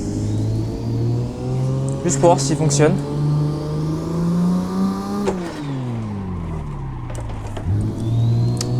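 A drift-spec Nissan 240SX S13 making 310 horsepower in the Assetto Corsa driving simulator revs up, drops sharply, then climbs again, a loud, close engine whine with a brief tire chirp, while someone talks over it.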